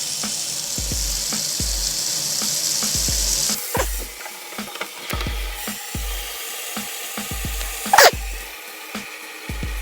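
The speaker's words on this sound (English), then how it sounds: "I'm going to now actually fill it up and then just see how quick it drains down." Tap water runs into a kitchen sink, a steady rushing stream for the first few seconds, followed by irregular splashes and clunks as the basin fills.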